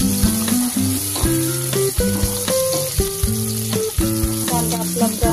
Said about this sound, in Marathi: मिरची टाकायची, हिला थोडी फ्राय करून घ्यायची मिरचीला पण।